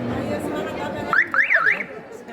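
A school-made buzz wire game device at a student exhibition sounds a warbling electronic alarm tone when its track is touched, rising and falling over about a second amid background crowd chatter.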